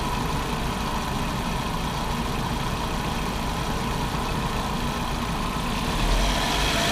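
A 1999 Volkswagen Passat 1.8T engine with a faulty MAF sensor idles roughly, a steady, moderately loud mechanical drone with an uneven low-end pulse and a slight rise near the end, no voices.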